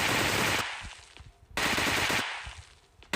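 Sustained bursts of M416 rifle fire in a mobile battle-royale shooter match, loud and continuous automatic shots in two long strings separated by short gaps, with no talk over them.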